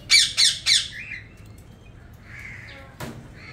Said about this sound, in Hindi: देखें बड़े प्यारे परिंदे हैं। और ये हमारी मैना भी है